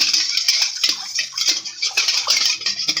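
Water poured into a bowl of mixed sugar, salt and yogurt, a close, bright splashing pour with uneven gurgling pulses running for about three seconds, with no talking over it.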